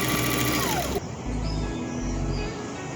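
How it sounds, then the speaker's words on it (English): Steady mechanical whirring of a sewing machine running continuously up close, its motor hum shifting partway through, with no voices. "Back to the sewing machine."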